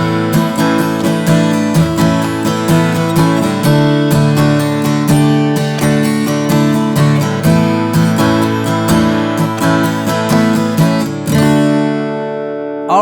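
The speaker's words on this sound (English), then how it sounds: "So let's get it right up to tempo using that strumming pattern" An acoustic guitar strums a song with sus chords at full tempo in a steady, driving pattern of bright, even strokes, ending on a single ringing chord left to sustain.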